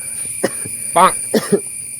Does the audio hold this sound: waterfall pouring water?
no